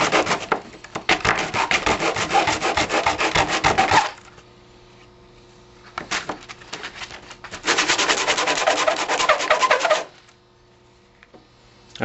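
Close, rapid rasping strokes of 100 grit sandpaper on a wooden back panel of an HO scale model railroad building, in two long bursts of brisk back-and-forth rubbing separated by a pause with a few scattered scrapes.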